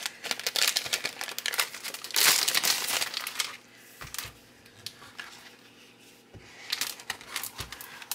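Pages of a Song of the Sea 6x6 patterned paper pad are leafed through close by, giving crisp crinkling rustles in uneven bursts with quieter handling in between.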